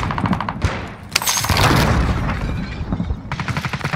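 M13 rifle firing in a multiplayer shooter video game, with bursts of rapid close gunshots, a dense loud stretch of mixed explosive fire in the middle, and more quick shots at the end.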